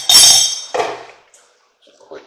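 Slow-cooked Cajun white beans get a quick stir in the pot, making a bright metallic clink and a duller scrape followed by a faint knock, close and brief, with a voice heard.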